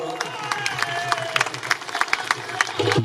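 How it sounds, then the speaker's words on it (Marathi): A festival crowd claps for a guest, giving a dense, steady patter of applause at moderate distance that continues through the whole stretch, with a voice briefly audible near the end. "एक जोरदार टाळ्या भाऊंसाठी वाजवा"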